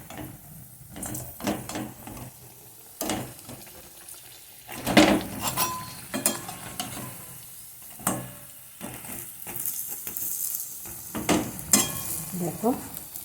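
Pakoras fry in oil in a pan, giving a faint steady sizzle under intermittent stirring and scraping clatter from utensils, with a few louder knocks.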